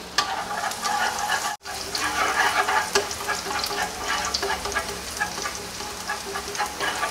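Minced garlic and chopped onion stir-frying in a pan, a steady loud sizzle with scraping and stirring clatter throughout, briefly cut off once, no talking.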